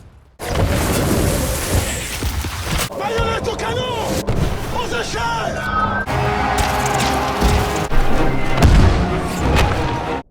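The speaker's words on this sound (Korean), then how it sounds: "두 명이 정찰을 떠난 뒤 잠시 후 총성이 들립니다." Gunfire and heavy booms in a World War I trench battle scene of a film, loud and dense with sharp cracks, thuds and crashes, while a voice speaks over much of the action.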